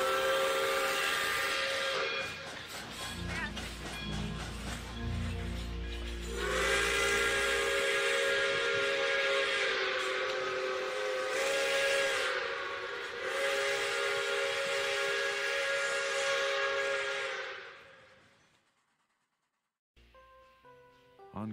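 A long, loud steam whistle blasts for many seconds, shrill and sustained with a brief dip and restart, then cuts off into near silence.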